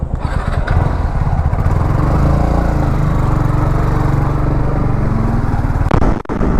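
A Yamaha MT-15 155cc motorcycle engine drones loudly and continuously while cruising at speed on an expressway, buried in heavy wind buffeting, with a brief dip near the end.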